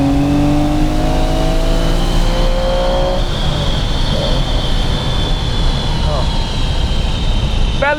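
A 1964 Lamborghini 350 GT classic car engine drones steadily under acceleration from inside the cabin, a continuous loud roar with harmonic whine, as someone talks over it.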